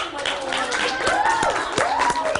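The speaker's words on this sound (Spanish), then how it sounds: "quiero que le den un Vecinos. fuerte aplauso, pero muy llegador" A studio audience applauds to welcome a singer, with a moderate wash of clapping running beneath cheering and whooping voices throughout.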